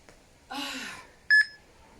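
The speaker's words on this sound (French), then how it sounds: "Jusqu'au bip." A short exhale-like breath is followed by a sharp, loud electronic timer beep, a clipped double tone that stops abruptly, during a chair-based strength workout.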